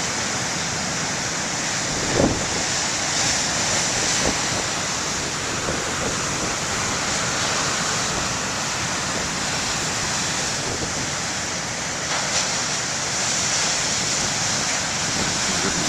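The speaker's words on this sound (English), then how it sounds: "The sound of the waves is even better than just the sights only." Steady roar of surf washing onto a lighthouse beach, a continuous broad rush with faint swells and no voices.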